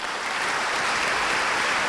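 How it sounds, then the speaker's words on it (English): Steady, dense clapping from a lecture audience, sustained evenly at full strength for the whole stretch. "I'd like you to join me in a round of applause for them"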